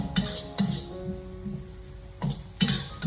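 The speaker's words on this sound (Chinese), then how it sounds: "锅中下少许的油，再下切好的蒜末，用小火给它翻炒一下" A metal spatula scrapes and clinks against a wok as minced garlic is stir-fried in a little oil over low heat, with several sharp taps and a soft sizzle underneath.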